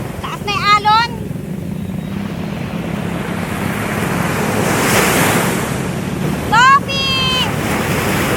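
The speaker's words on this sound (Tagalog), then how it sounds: "Taas na yung alon!" Large surf waves break steadily at Liwliwa, Zambales, a broad continuous roar with heavy wind buffeting the microphone, while voices exclaim briefly near the start and again near the end.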